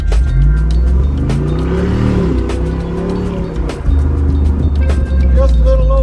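A Jeep Renegade X-MR with a 470-horsepower engine in performance mode, a loud close-up deep rumble that rises and falls through several revs, with a brief dip near the middle, under some background voices.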